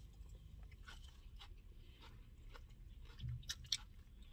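Coleslaw crunched during a car meal, close to the mouth, with soft repeated bites and chewing and a couple of sharper crunches near the end, no talking.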